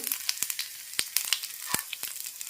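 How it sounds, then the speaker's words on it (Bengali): Whole spices hit melted ghee for tempering, giving a crisp sizzle with scattered sharp pops and crackles spread irregularly across a few seconds, close and fairly loud with no talking. "এখন ঘিটা গলিয়ে নিয়েছি এবার আমি দিয়ে দিচ্ছি ফোড়ন"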